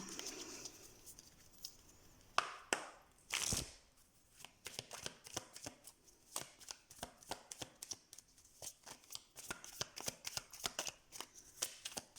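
Tarot cards shuffled by hand, heard as a long run of quick, close riffling and patting taps in an irregular rhythm, fairly quiet overall, with a few louder handling bursts early on.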